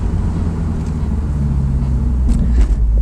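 Honda S2000 on the road, heard from inside the cabin: a steady, loud low engine and road rumble that holds constant throughout, with no talking.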